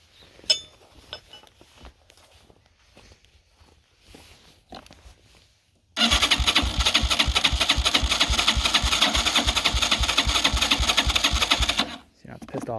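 A cheap Chinese quad ATV engine sputters unevenly at first, then catches and runs at a loud, steady idle with rapid even pulses for several seconds before cutting off abruptly.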